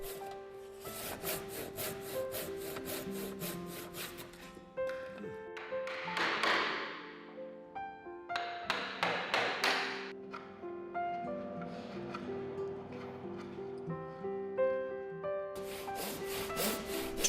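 Repeated back-and-forth strokes of a hand saw biting into wood, rhythmic rasping with pauses, over faint background music.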